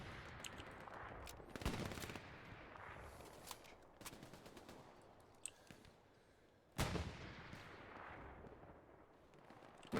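Grenades blast in the World War II shooter Hell Let Loose, two sharp heavy bangs several seconds apart, each trailing off into a rumbling decay over a backdrop of distant gunfire crackle.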